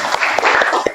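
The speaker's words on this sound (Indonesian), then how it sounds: "Tepuk tangan dulu." A classroom of students claps briefly in an uneven rhythm, several distinct hand claps close by within a single second.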